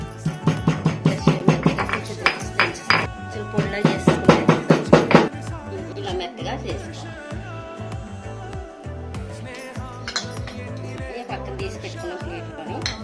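Carrot chutney ingredients pounded by hand on a grinding stone, a run of steady close thuds in quick rhythm that stops partway through, leaving a quieter low mechanical hum.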